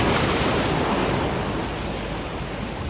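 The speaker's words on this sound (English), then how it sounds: "you still got to keep your eye on the waves" Ocean waves break on the shore at a coastal fishing spot, a loud, steady wash of surf with wind buffeting the microphone, continuous throughout and with no voices.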